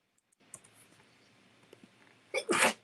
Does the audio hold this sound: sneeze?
yes